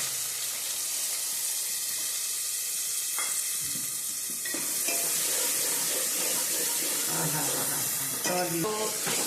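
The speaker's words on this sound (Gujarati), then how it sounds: "હવે આપણે આ મસાલાને આની અંદર વઘારવાનો છે." Steady loud sizzling of spices tempering in hot oil for a Gujarati mixed vegetable dish, with occasional clinks and stirring sounds throughout.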